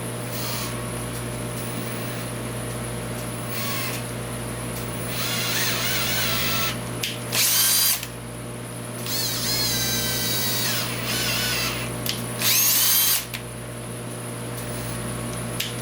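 Power drill tapping threads into an aluminum scope ring: a steady background whine with short bursts of higher motor whirring around eight and thirteen seconds, fairly close.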